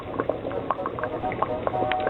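Quinoa in a cooking packet boiling in a pot of water, with a continuous rolling bubble and scattered pops and gurgles close by.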